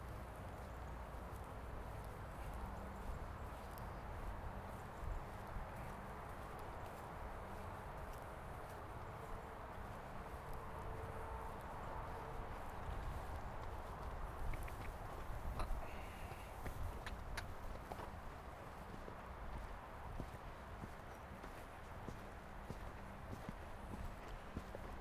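A ridden horse cantering in an outdoor arena during a coaching lesson, soft rhythmic hoofbeats on footing, fairly distant and faint against a steady background hiss.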